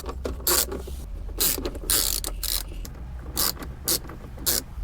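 A hand ratchet backing out 7 mm bolts from a 2010–11 Camaro SS dash, rapid clicking pawl bursts in short repeated runs with pauses between, close and fairly loud.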